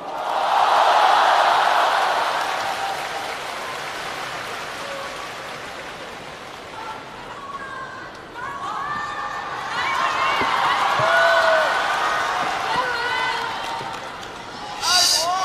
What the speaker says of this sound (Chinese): 谢谢武汉各位朋友热情的掌声